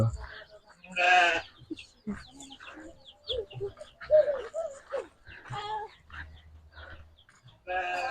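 Goats bleating in a rural Indonesian house yard just after feeding, with loud bleats near the start and again at the end, mixed with people talking nearby.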